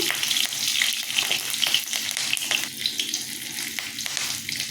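Green chili and five-spice seeds tempering in mustard oil, a steady close crackling sizzle with small pops and stirring scrapes throughout, no voices.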